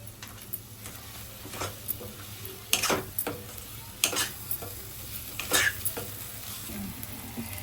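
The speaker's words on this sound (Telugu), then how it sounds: "బంగాళదుంప వేసుకుందామండి. కాసేపు వేపుకుందామండి." Potatoes with turmeric sizzle and fry in a pan while a utensil stirs and scrapes, with sharp clinks and knocks every second or two.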